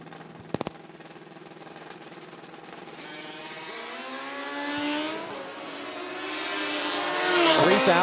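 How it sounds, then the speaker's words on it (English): A Yamaha racing motorcycle engine roars at a Midwest Sportsman motorcycle race. After a couple of sharp pops, the engine note climbs and swells louder as the bike revs and nears, ending in a strong high-pitched howl. "Todd Wingfield on an equally unique bike, a Yamaha."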